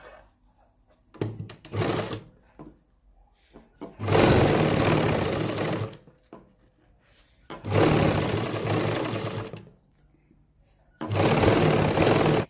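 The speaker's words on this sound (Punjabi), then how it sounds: "ਇਸ ਤੋਂ ਬਾਅਦ ਆਪਾਂ ਦੂਜੇ ਪਾਸੇ ਸਲਾਈ ਲਾਵਾਂਗੇ" A sewing machine stitches buckram into a salwar cuff, running in three loud bursts of a few seconds each, separated by quiet pauses with light handling noises.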